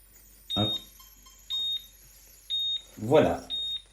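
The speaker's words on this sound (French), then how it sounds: "un signal sonore va nous indiquer" Charlyclerc AMC cookware timer sounding the end of cooking with five short, evenly spaced high electronic beeps about a second apart, clear and close, while a person speaks quietly between them.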